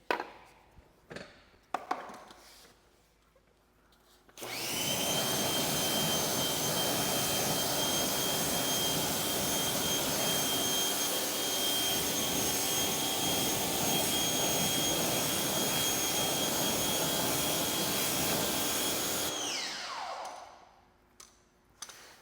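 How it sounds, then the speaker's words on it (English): A pressure washer rinses a car wheel after a wheel cleaner treatment, a loud continuous hissing spray that starts abruptly, runs steadily for about fifteen seconds and then cuts off, with quieter handling noises before and after. "Now we rinse thoroughly."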